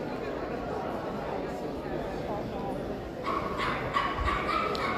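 A Norwich Terrier at a dog show barks and yips in short bursts near the end, fairly faint beneath steady crowd chatter and the hall's background noise.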